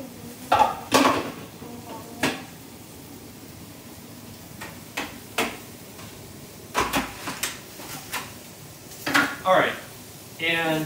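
Tofu and breadcrumbs crumbled into a bowl, heard as scattered soft knocks and clinks of kitchenware between stretches of talk.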